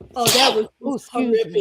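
A single loud, close sneeze bursts out sharply, followed right after by people talking.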